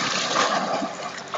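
Water splashing as people jump into a pond or stream, a dense, continuous near splash and slosh with no talk.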